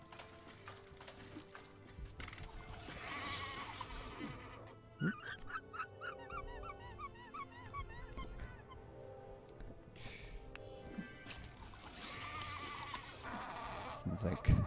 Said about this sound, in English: Sounds like a whining dog and a goat.